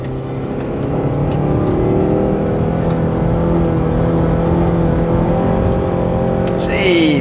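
A Honda Accord CD5 fitted with lowering springs and new tyres accelerates hard through a motorway on-ramp corner. The engine drones loudly and steadily from inside the cabin, with tyre and road roar beneath it and a slight rise in pitch.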